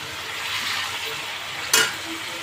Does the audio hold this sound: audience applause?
no